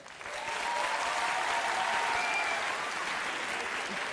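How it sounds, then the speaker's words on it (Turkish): A comedy show audience applauds in a live Turkish cabaret venue, a full, sustained wave of clapping that swells quickly and holds steady, with faint voices mixed in. "Alkış yarıya indi demin."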